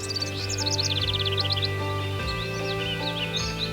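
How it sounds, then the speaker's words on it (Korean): Small birds chirp and trill in quick, bright bursts, fairly close, over a steady low hum of background noise. "새의 울음소리가 들리시나요?"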